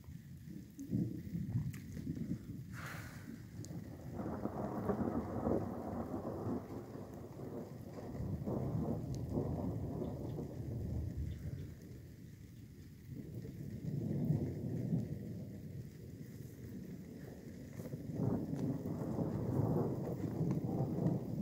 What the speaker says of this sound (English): And check out the storm.